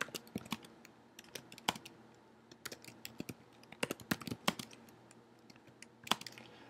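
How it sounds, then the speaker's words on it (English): Rapid computer keyboard typing with irregular bursts of sharp clicks, close and clear, with brief pauses between flurries; no voices. "I don't know what I was typing there"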